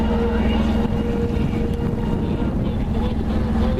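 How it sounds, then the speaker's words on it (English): A sailboat motors under engine power, its steady low drone and hum running throughout with gusts of wind buffeting the microphone. "we're still motoring, and I think we're going to end up having to motor all the way to the anchorage"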